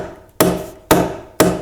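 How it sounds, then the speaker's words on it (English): A hammer drives nails into a metal joist hanger during a kitchen remodel. Three loud, close, evenly spaced blows ring out sharply, each fading quickly, with no talking. "There's my hammer."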